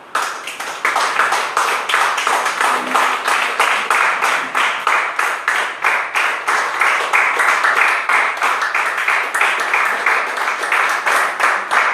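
A church congregation applauds the Lord during a sermon, a dense, steady round of many hands clapping that stays loud and even for the whole stretch, with no talking over it.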